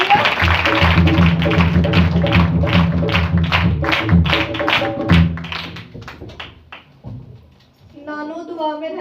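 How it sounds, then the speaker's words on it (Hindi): A church congregation at a New Year's Eve prayer service claps loudly in steady rhythmic beats under singing voices, fading out after about seven seconds before a voice begins speaking. "तालियां तालियां जोरदार तालियां।"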